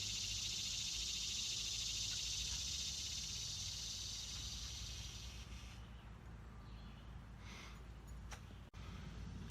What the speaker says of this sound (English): listen to my cicadas